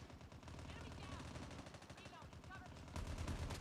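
Shooter video game battle with continuous gunfire and bombing, dense rapid shots and bursts that swell louder near the end, with some voice-like sound mixed in.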